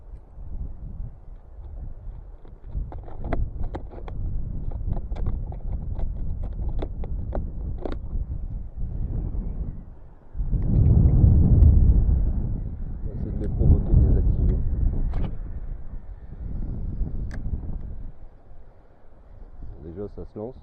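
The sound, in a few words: wind blowing on microphone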